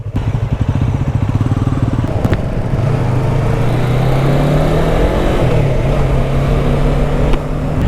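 A full-fairing sport motorcycle ridden along a coastal road in the Konkan, its engine droning loud and close with a rising pitch as it accelerates, under steady wind rush.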